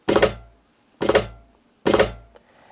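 Three evenly spaced accented cajon hits finger-drummed on drum machine pads, with a sharp attack and booming low end, close and dry, each ringing briefly before the next.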